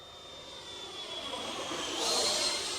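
A QT T45 Goshawk EDF model jet on a 6S setup makes a low pass, its ducted-fan whine rising steadily in volume as it approaches and sweeps by, with no one talking.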